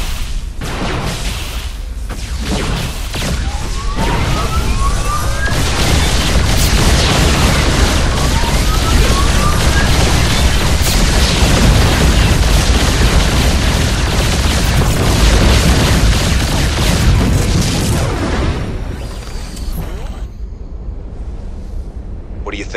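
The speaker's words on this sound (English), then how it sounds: "Acknowledged. Commencing bombardment." Battlecruisers bombard a target in the StarCraft II video game, a dense barrage of heavy, rumbling explosions and bursts that swells, holds loud for several seconds, then fades away.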